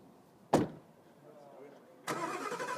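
A car at a dealership gives a sharp thump, then after a short pause its engine cranks and catches, settling into a loud, steady run close by.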